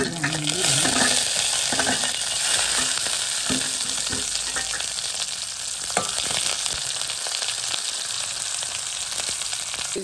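Coriander and ivy gourd leaves sauté in a pan for a sambal. A loud, continuous frying hiss carries scattered stirring clicks and scrapes throughout, close up, with no talking.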